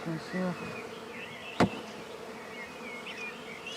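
Honeybees buzzing around a hive box during French beekeeping, a soft continuous droning hum with one sharp knock partway through.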